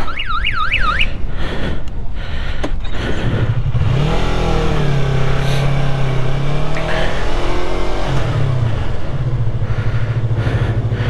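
A motorcycle engine revs loudly and close on a slope, rising and falling in pitch. It follows a brief warbling alarm-like electronic tone.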